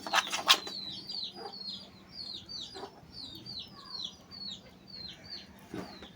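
Chickens cluck and chirp in repeated short calls at a moderate distance, with a burst of wing flapping at the start, over faint background noise.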